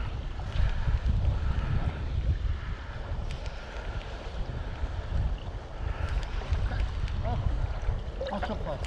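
Wind buffets the microphone with a constant low rumble on the water while perch fishing in the evening, along with faint voices and water sounds in the background.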